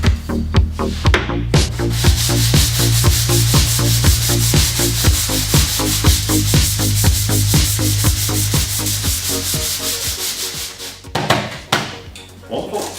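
Putty being sanded with a Kovax Maxcut abrasive and no dust extraction, a loud, steady rhythmic rasping scrub of back-and-forth strokes running almost continuously, with a brief pause near the end.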